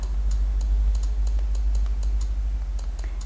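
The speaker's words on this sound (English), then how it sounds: "we could actually use this as a keyboard" Fingers type on the detachable keyboard of a Samsung Galaxy Note Pro 12.2 tablet, producing light, close clicking keystrokes in an uneven rhythm over a low steady hum.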